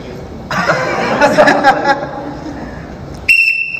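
At a Ted Lasso fan convention panel, a crowd chuckles and murmurs, and then a short, shrill whistle blast sounds at the very end.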